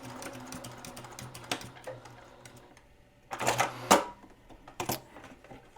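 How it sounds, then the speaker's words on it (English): Sewing machine running a short forward and back stitch on fabric for a small scrunchie keychain, a fast mechanical chatter in brief bursts, close and moderately loud with quiet gaps between. "Do a forward stitch, do a back stitch, and then cut our thread."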